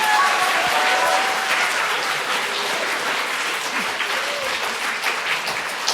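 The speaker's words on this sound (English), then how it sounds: "let's give Zoe a round of applause" An audience at a school geography bee gives Zoe a round of applause, dense steady clapping from a crowd lasting several seconds without letting up.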